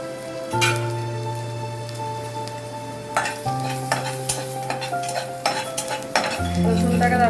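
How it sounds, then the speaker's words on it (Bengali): Chopped garlic frying in a pan for mushroom cream soup, stirred with a utensil: a close sizzle under repeated metallic scrapes and clinks against the pan, a low hum in the background, no speech. "রসুনটাকে তারপরে একটুখানি হালকা নেড়ে নিই।"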